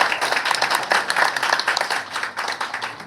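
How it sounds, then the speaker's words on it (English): Audience applause for a team at the inauguration of an Atal incubation centre in Kolkata, a steady wash of many hands clapping at moderate level, continuous for several seconds with no voices on top. "So a round of applause for the team"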